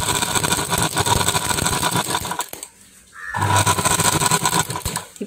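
A tailoring machine's electric motor with worn carbon brushes runs and stitches, a loud, rapid mechanical clatter and whine that stops briefly, then restarts with a steady hum and renewed chatter.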